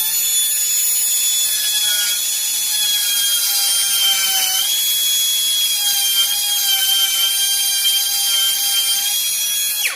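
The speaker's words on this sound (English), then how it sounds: "so I'm going to grind a little bit more" A power grinder works continuously on a flywheel key for a 346XP chainsaw project, giving a loud, close, high whining screech that holds steady for the whole stretch, with slight pitch dips, then cuts off at the end.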